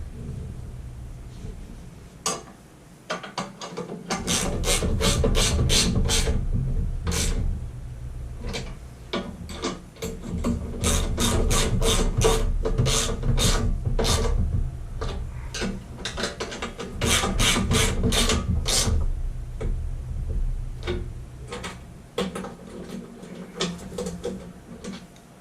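Bolts being tightened on a Harbor Freight motorcycle dolly: close, crisp ratchet clicks in repeated bursts with short pauses between rounds, over a quiet background.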